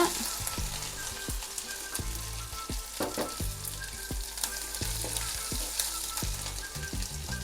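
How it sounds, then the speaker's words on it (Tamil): Ginger garlic paste and green chillies fry in a pan over a low flame, a bright steady sizzle punctuated by regular rhythmic stirring strokes, close up and without voices. "இப்போ இது கூட இஞ்சி பூண்டு விழுது சேர்த்துடலாம்"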